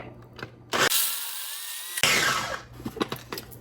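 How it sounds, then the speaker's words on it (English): Food processor whirring loudly for about a second as it blends corn kernels, starting and stopping abruptly, with clattering and bumping of the bowl and lid before and after. "we are going to process these kernels right here until they're completely smooth"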